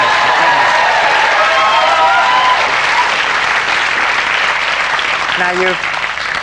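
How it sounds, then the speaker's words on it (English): A TV studio audience breaks into a full round of applause with some cheering, loud and sustained. Voices sound briefly over the clapping. "A round of applause"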